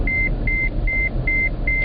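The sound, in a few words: taxi beeper going off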